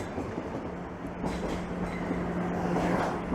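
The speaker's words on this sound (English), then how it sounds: "here comes a southbound train" A Toronto TTC Line 1 southbound subway train rumbles past with steady rolling noise and a faint humming tone, moderately loud and continuous, with no voices.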